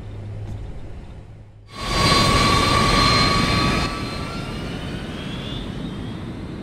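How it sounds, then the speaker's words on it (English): A jet engine in the Metal Gear Solid 4 video game suddenly roars in after a short lull, loud and steady with a whining high tone, then eases to a lower sustained rumble. "sudden jet engine noises"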